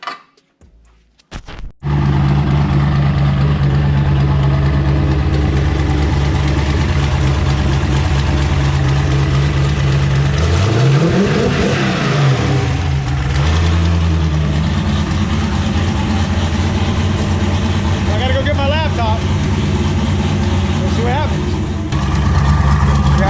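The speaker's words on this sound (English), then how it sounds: "So I do think we are ready to fire it up." A car engine fires up and settles into a loud, steady idle close by, with a rising and falling rev partway through and a voice speaking over the running engine.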